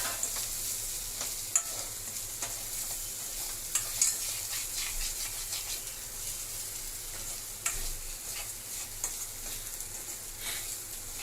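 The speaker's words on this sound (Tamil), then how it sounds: "ஒரு 2 நிமிஷம் சிம்மில் வச்சு வதக்கிறேன்" A kozhakattai flour mixture is sautéed and stirred in a pan over a low flame: a soft, continuous sizzle with scattered light scrapes and taps of the stirring utensil.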